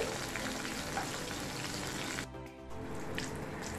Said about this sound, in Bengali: তার জন্য আমি এই তেলের মধ্যেই বেগুনটাকে ভেজে নিচ্ছি।